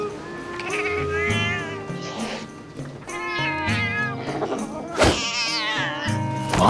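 A talking cat from the video game Metal Gear Solid: Peace Walker gives a run of drawn-out, sing-song meows with voiced, chattering inflections, steady and close over game music, with a sharp accent near the end.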